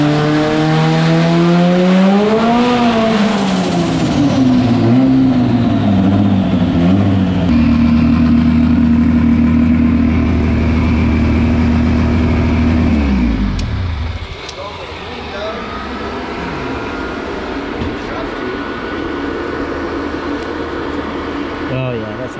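Turbocharged race car engine with about 22 psi of boost, making 730 horsepower, loud and close as it revs and pulls hard through rising gears, then drops to a lower rumble near the end; voices talk over it.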